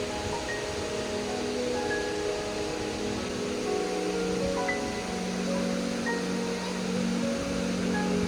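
A waterfall in Elan Valley pours in a steady, even rush of falling water, constant and fairly soft, with no voices over it.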